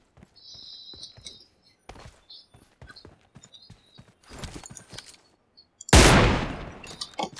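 Gunfire in PUBG Mobile on the Erangel map: scattered sharp shots and short bursts at varying distances, then one loud close blast near the end that fades into a long decay.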